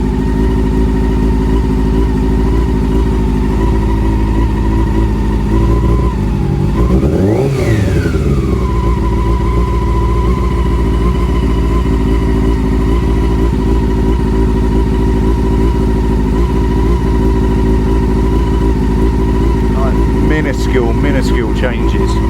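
A Honda CB400 Super Four idles steadily after a carburettor sync, a loud close four-cylinder burble with one brief rev swelling and settling midway, and a few faint clicks near the end.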